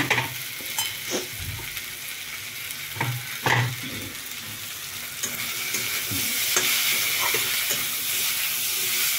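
Okra tipped into a hot frying pan, a few knocks and scrapes from the pan and spoon first, then a steady sizzle that grows louder and holds close by, with no talking.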